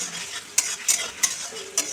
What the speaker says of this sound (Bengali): দিয়ে ভালো করে নেড়ে চেড়ে নিচ্ছি